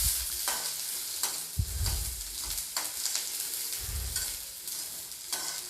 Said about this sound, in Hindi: अनियन को मैं हल्का सा भून लूँगी।